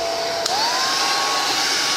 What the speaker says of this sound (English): I'll borrow my wife's hair dryer here. Oh, she already had it on.